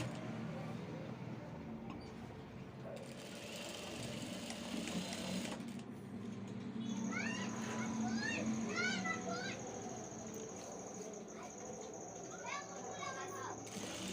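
A sewing machine stitches a kurta seam in steady continuous runs, fairly close and moderately loud, with chirping and faint background voices partway through.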